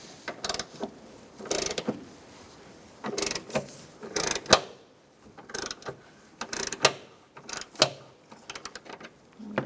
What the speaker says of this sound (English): Using a 14mm socket, we're going to take out these bolts.